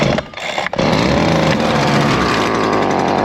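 A Stihl FS70R string trimmer's small two-stroke engine cold starts after priming and choke, catching quickly and then running loud and close at a steady, buzzing idle.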